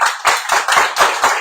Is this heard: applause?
yes